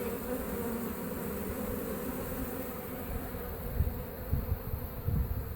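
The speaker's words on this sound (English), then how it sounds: "I had most of the bees kind of going into this hive" A steady, dense buzz of many honey bees swarming close by as they move into a hive, continuous throughout with slight swells.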